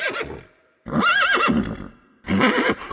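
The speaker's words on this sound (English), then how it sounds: "the sound of a group of galloping horsemen cut through their thoughts" A group of horses neighs and whinnies loudly in three strong bursts separated by short pauses, with faint hoof clip-clop underneath, a dramatic sound effect for armoured horsemen galloping up across a misty field.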